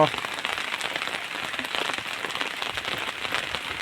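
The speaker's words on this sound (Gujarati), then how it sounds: "વરસાદ પણ જુઓ અત્યારે ચાલુ જ છે" Rain falls steadily, a dense, even patter on surfaces nearby that continues without pause.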